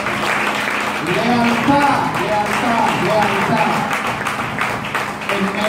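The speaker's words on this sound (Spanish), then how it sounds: "Denle un aplauso al Señor." A congregation applauds at an evangelical church service, a steady wash of clapping that runs the whole time beneath a preacher speaking loudly.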